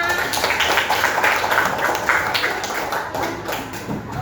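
Classroom applause at the close of a peer-teaching lesson: steady, continuous clapping from a group of students, fairly close and even in loudness throughout.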